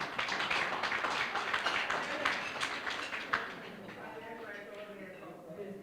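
Audience applause at the Ebenezer Rehabilitation Centre 2022 annual fundraising dinner: a dense, steady patter of many hands clapping fills the room for about three seconds, then thins out and fades.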